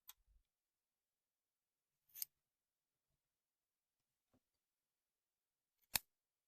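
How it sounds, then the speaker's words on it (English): Scissors snipping yarn ends on a crocheted rainbow crossbody purse: three sharp, isolated close cuts spaced a couple of seconds apart, with a faint tick between them in an otherwise quiet room. "I'm just going to cut these down."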